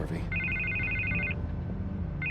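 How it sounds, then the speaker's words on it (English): Telephone ringing inside Batman: The Telltale Series, an electronic trill in two bursts separated by a short gap, heard under game dialogue and background score. "I can't get the phone to stop ringing."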